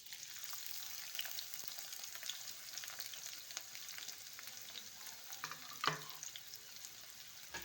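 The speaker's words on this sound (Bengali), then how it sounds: "এবার এতে দেব আমি পেঁয়াজ কুচি" Chopped onion dropped into hot oil with cumin seeds fries with a soft continuous sizzle and crackle, quiet and fairly distant, with scattered light ticks and one louder clink near the end.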